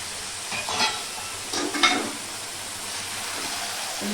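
Chopped tomatoes being stirred into chicken curry in a pan, giving a few soft scraping stirs with faint sizzling beneath, close and fairly quiet, with short pauses between strokes.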